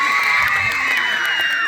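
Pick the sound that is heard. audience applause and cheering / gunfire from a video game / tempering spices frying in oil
audience applause and cheering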